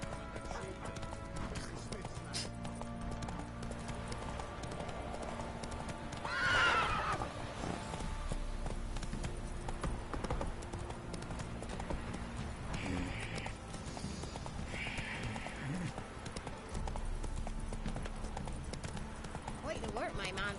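Horse hooves clip-clop with a neigh or whinny from a mount in The Witcher 3, steady hoofbeats running under game music and ambience while someone speaks in the game.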